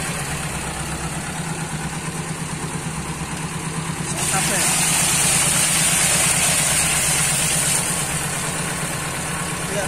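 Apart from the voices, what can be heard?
car engine idling with motorcycle ignition parts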